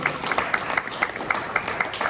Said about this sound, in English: we're going to give her a round of applause